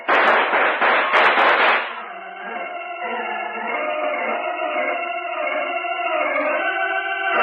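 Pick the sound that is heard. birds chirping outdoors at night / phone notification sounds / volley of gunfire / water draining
volley of gunfire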